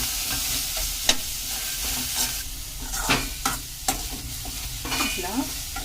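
Sesame seeds dry-roasting in a pan, a continuous close rustling hiss punctuated by several distinct scraping strokes of a spatula as the seeds are stirred, steady and moderately loud.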